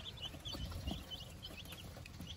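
Mixed-breed farm chickens, including Sussex, Barred Plymouth Rock, Black Australorp and Rhode Island Red, give soft scattered clucks at a distance amid quiet outdoor ambience.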